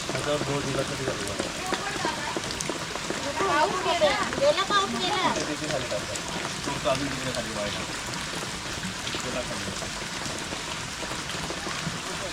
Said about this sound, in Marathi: पाऊस बघा भरपूर आहे